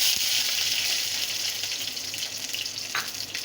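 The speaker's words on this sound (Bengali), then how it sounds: "আমি দিয়ে দেবো এখন রসুন আর কাঁচা লঙ্কা দিয়ে এগুলো এখন ভেজে নেব।" Garlic and green chillies sizzle in hot mustard oil, a close, steady, dense frying hiss that carries on without a break.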